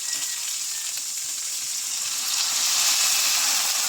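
Vinegar poured into a pan of frying escabeche ingredients, giving a loud, steady sizzle and hiss that swells slightly toward the end, with no voices.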